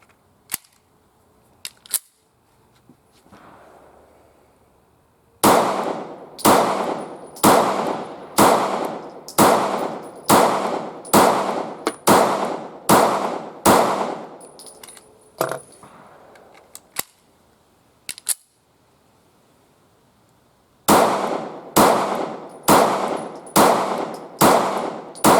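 Taurus GX4 pistol firing 124 grain Hydra-Shok rounds: a few scattered shots, then a steady run of about ten loud, sharp cracks, a pause with a couple more, and another quick string of shots near the end.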